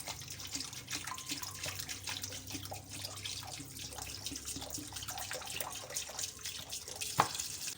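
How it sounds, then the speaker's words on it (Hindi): Water pours steadily into a pot for beef yakhni pulao, a continuous splashing rush that holds for several seconds, with a small clink near the end. "1 लीटर पानी डाल दूँगी"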